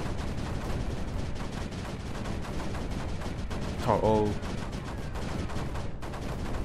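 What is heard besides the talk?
gun turret firing in video game Creeper World 4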